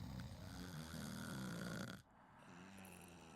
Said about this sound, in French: tout le monde ronfle dans la paille